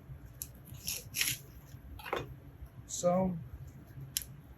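A knife cuts the top off fruit being prepared for a platter, giving a few short crunchy slicing and squishing sounds close by, with brief soft speech.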